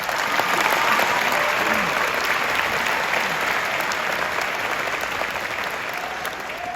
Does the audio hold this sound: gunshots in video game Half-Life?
no